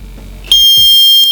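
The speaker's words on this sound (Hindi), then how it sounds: "तो ये अलार्म थोड़ा सा ख़राब हो रहा है, मतलब ये बजर" A homemade water tank overflow alarm buzzer, reported as slightly faulty, switches on partway through and then holds a loud, steady, piercing electronic tone. Faint clicks and bumps from handling sit underneath it.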